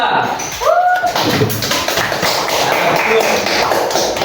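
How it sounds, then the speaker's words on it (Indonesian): A class claps for group 2 in a continuous, dense patter of hands, with voices talking over the clapping and some shuffling in the room. "Tepuk tangan untuk kelompok 2."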